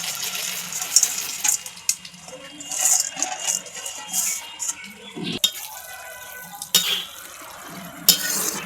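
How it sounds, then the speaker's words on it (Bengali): Bonde, small fried gram-flour droplets, being added to sugar syrup and stirred, with soft wet stirring, light clinks of a spoon against the pot and scattered close handling noises. "এই যে আমি দিয়ে দিচ্ছি বোঁদেগুলো মিষ্টির রসে"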